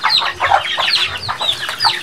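Chickens on a farm cluck in a steady, overlapping chorus of short calls, close and fairly loud, with no voices.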